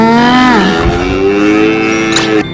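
A water buffalo lets out one long, deep moo, loud and close, that slides down in pitch and trails off at the end.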